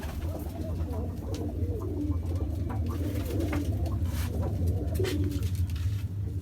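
Many Bazi pigeons in a loft coo steadily and close by, their low throaty calls overlapping without a break, with faint rustling and higher chirps scattered above.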